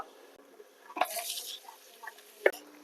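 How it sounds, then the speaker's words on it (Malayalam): Prawn heads fry in hot oil that has already cooked prawns, with soft stirring and a burst of sizzle around the middle and a sharp clink of a utensil near the end, fairly quiet and close. "ഇനി നമുക്ക് ആ ചെമ്മീൻ ഫ്രൈ ചെയ്ത സെയിം ഓയിലില് ഈ ചെമ്മീന്റെ തല പൊരിച്ചെടുക്കാം."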